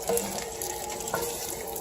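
Saffron-infused chicken broth poured into a paella pan with chorizo, a short soft splashing pour that stays quiet and close.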